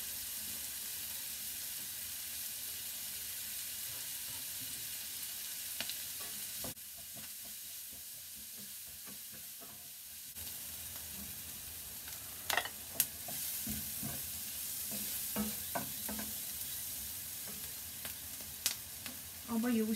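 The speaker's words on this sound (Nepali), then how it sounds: "अब यो काटेको लसुन र अदुवा पनि एकैछिन भुट्ने" Chopped garlic and ginger fry in a pan for an egg and potato curry, a soft, quiet sizzle broken by occasional spoon scrapes and clinks against the pan.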